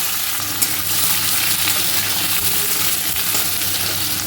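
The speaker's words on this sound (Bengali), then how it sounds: "পেঁয়াজটাকে একটু ভেজে নেব।" Chopped onion fries in hot oil for chicken kosha, giving a loud, dense and continuous sizzle that stays steady throughout, close up and with no talking.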